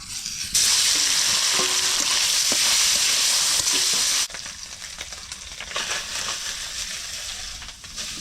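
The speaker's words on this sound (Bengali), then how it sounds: "বন্ধুরা আমার মাছ ভাজা হয়ে গেছে" Fish frying in hot oil in a pan sizzles loudly and steadily for several seconds, then drops to a quieter, uneven crackle.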